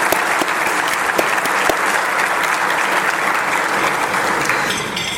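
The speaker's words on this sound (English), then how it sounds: "Round of applause." A room full of guests at a police awards luncheon applauds steadily, dense even clapping with a few sharper nearby claps, continuing without a break.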